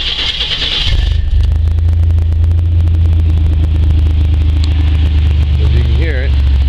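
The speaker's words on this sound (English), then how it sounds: "That's a cold start." A 1992 Chevy truck engine starting cold after sitting overnight: a brief cranking burst, then a loud, steady low idle rumble close by that continues to the end.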